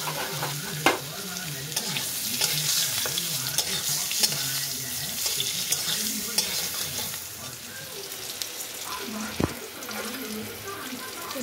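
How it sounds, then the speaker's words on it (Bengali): Eggplant pieces frying in hot oil seasoned with black cumin seeds, a steady sizzle with stirring and scraping, close and continuous, with occasional clinks of the utensil. "এই কালো জিরে দিয়ে এবার আমি এতে বেগুনগুলো ভেজে নেব।"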